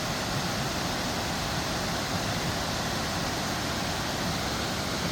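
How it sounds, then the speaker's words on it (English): Waterfall in a Georgia forest at Mill Shoals Falls, Lakemont, Rabun County, giving a steady, dense roar of falling water that stays loud and even throughout, with no voices. "beautiful waterfall."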